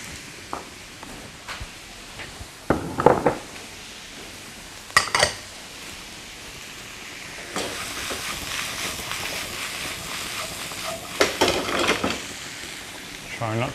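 Rice noodles, tofu and broccoli are stir-fried in a pan, with scattered clinks and scrapes of a utensil against metal over a low sizzling hiss and a busier clattering stretch near the end; a person talks at times.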